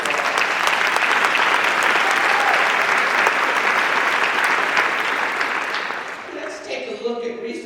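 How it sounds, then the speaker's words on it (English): A large audience at a justice advocacy assembly bursts into loud, sustained clapping that stays full and even before tapering off near the end. "That deserves applause."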